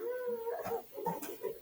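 A person imitates a cat with a short, wavering meow-like vocal sound made of a few uneven pitched bursts.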